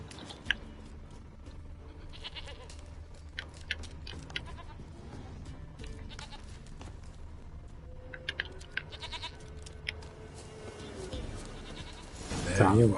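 A goat bleats in The Witcher 3 during a quest to fetch a stubborn goat, a short nasal bleat near the end over faint ambient game sounds and scattered clicks.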